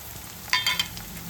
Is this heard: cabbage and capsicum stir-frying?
yes